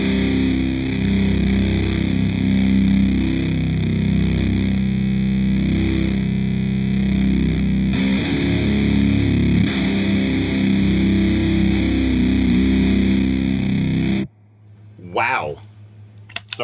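Kink Russian Plague distortion pedal on electric guitar through an amp and speaker, a huge, thick, synth-like fuzz tone sustaining loudly for about fourteen seconds before cutting off, followed by brief quiet string noise.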